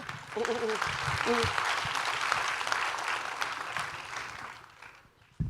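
An audience breaks into sustained applause, many hands clapping together, holding steady for several seconds before fading out.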